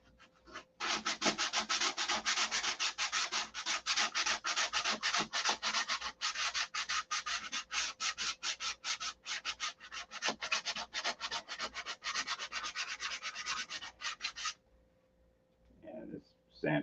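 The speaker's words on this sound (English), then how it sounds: "This sandpaper must be really old. It ain't cutting shit." Worn, old sandpaper rubs by hand over a model airplane in quick, rhythmic scratchy strokes, close and continuous for about fourteen seconds before stopping, followed by a few faint handling noises.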